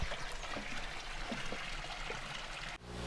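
Water from a natural spring source trickles and streams steadily nearby, a continuous splashing flow with small gurgles, ending in a brief abrupt cut.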